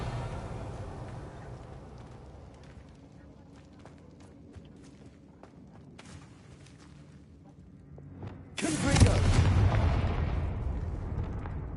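Bombarda spell explosion in Hogwarts Legacy, a sudden loud blast that rumbles on and decays slowly over the last few seconds, following a stretch of quiet ambience and soft game sounds.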